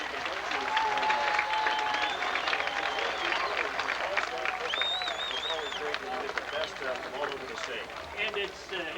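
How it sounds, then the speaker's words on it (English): Spectators at a 1995 Nebraska six-man all-star football game applaud players, parents and coaches during pregame ceremonies, a steady outdoor clapping with crowd murmur and chatter mixed in, moderately distant and fairly quiet. "Please give these players and parents and the coaches a big round of applause"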